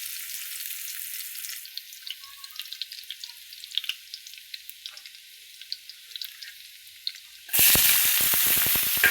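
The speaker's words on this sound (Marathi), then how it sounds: "हे चांगलं तेलात फ्राय होऊ द्यायचं बघा." Crushed garlic and onion frying in oil: soft, scattered crackles and pops for several seconds, then a sudden loud, close burst of sizzling near the end.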